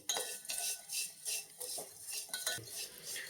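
Payasam mixture sweetened with sugar is stirred and roasted in a pan, a spoon scraping in repeated rhythmic strokes, close and fairly quiet, with light metallic clinks between passes.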